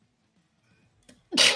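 A single loud sneeze bursts out at the end after a near-silent pause, close and sudden, during a tabletop role-playing game session.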